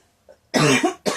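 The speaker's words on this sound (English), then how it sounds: "I start coughing" A single loud, harsh cough bursts out close by, followed by a second shorter cough after a brief pause.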